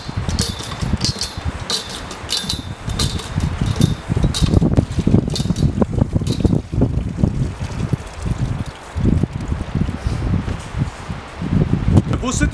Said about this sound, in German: Diese Windgeräusche hier im Wald, die können wirklich sehr beängstigend sein